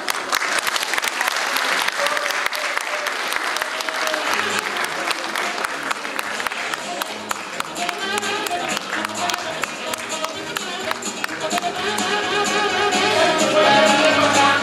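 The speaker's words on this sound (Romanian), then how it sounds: "aplaudați!" An audience at a clown show in a philharmonic concert hall applauds for a long stretch, a crowd of hands clapping close and continuously, with a voice talking over it and the clapping swelling louder toward the end.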